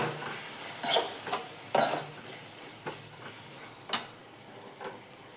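Crushed chana dal palya ingredients frying in a little oil, a low sizzle broken by several scraping, clattering strokes of a spoon against the pan, close up with no talking.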